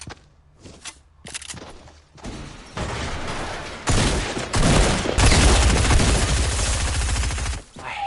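Shotgun gunfire in the Fortnite video game, a few sharp isolated shots at first and then a dense, loud stretch of rapid firing and impacts that continues to the end.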